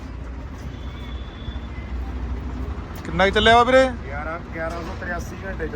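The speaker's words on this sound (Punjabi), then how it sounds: "ਬਾਕੀ ਆਵਾਜ਼ ਨੂੰ ਚੈੱਕ ਕਰੋ ਟਰੈਕਟਰ ਦੀ" A Swaraj 735 tractor engine, fully modified with about 1,100 hours of use, idles with a low, steady rumble while someone talks briefly over it.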